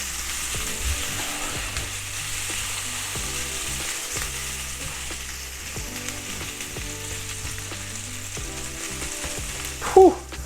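Pressed garlic frying in a pan for chorizo linguine, a soft steady sizzle over a background of low tonal music, ending with a brief louder clatter near the close.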